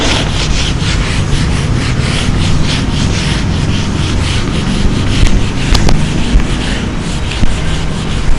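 Writing being rubbed off a classroom board with a duster, steady loud back-and-forth scrubbing close by, continuous for several seconds, with a few small knocks near the end and no talking.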